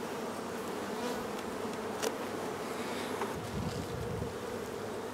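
A dense, steady buzzing of many honey bees around a hive getting ready to swarm, close and continuous, with occasional individual bees droning louder past the ear.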